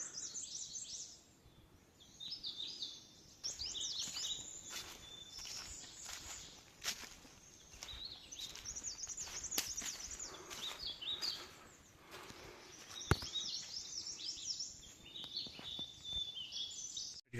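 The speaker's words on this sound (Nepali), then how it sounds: "सुन्न सक्नुहुन्छ चराचुरुङ्गीको आवाज।" Birds chirp and twitter steadily in a forest at Khaptad National Park in far-western Nepal, along a flat trail through nigalo bamboo. Bright, overlapping calls carry throughout, with occasional soft footsteps and rustles beneath.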